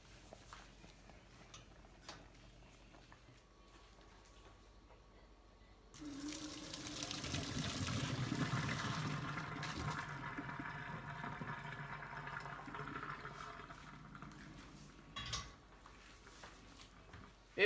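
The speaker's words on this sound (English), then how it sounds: "once the pasta has been cooked per the directions on the box, it's time to drain it" Cooked pasta water pours out of a Dutch oven while draining, a loud rushing gush that starts abruptly after a quiet stretch, then runs steadily and slowly tapers off.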